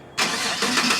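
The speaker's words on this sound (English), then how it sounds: "we got the remote start effect" A lifted Chevrolet Silverado pickup's engine fires up from remote start after a short quiet moment, cranking into a steady close idle with a slight rise in rumble.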